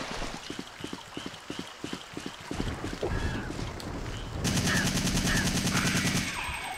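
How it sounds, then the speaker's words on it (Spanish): Gunfire rings out in the video game Biohazard 3 (Resident Evil 3): first a run of evenly spaced single shots, then a denser, louder sustained burst of rapid fire with game noise around it. "¿Cómo te van intentando esquivar los disparos?"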